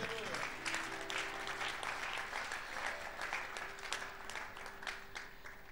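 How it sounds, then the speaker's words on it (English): A church congregation bursts into sustained applause during a sermon, a dense, steady wash of clapping from many hands across a large room, with a preacher's voice carrying on over it. "It's a good place to clap."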